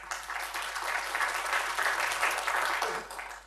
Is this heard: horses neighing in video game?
no